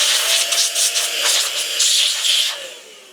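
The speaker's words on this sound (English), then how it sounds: "You guys will hear me blowing for a second." Steady, forceful rushing of air blown by mouth onto a vintage Nvidia 8600 GT graphics card in short bursts, close and loud, easing off near the end.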